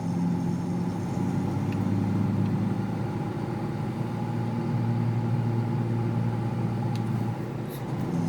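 An old tractor working in fifth gear while tilling a field gives a steady, droning engine rumble with a constant low hum, fairly loud and unchanging, with no voices.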